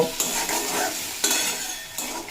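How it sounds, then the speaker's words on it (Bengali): Spoon stirring turmeric and cumin powder in a hot pan for a Bengali fish curry, with close scraping strokes over a steady sizzle of frying oil, no talking. "এরপর আবারও দুই মিনিট মতো নাড়াচাড়া করে নেব"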